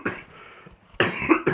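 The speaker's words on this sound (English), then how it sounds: "So that's the reason why I'm coughing so much." A sick man coughs in a few harsh, close bursts, first one short hack, then a pause, then a louder double cough near the end.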